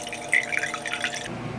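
Filtered drinking water poured into a glass, a short close trickle with dripping splashes that stops abruptly near the end.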